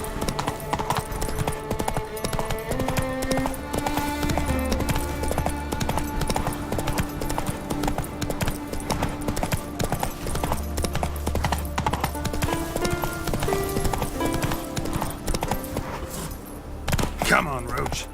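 Roach the horse gallops in The Witcher 3, a loud, fast continuous clip-clop of hooves throughout, layered with game music and a brief spoken voice.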